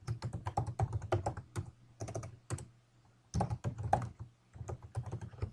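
Rapid clicking of keys on a computer keyboard in bursts with short pauses, close and fairly crisp, no voices.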